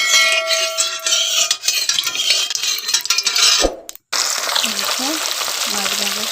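Spices hit hot oil for a Pabda fish curry and sizzle loudly and close, with a brief cut in the sound midway before the steady frying hiss resumes, a faint voice murmuring under it.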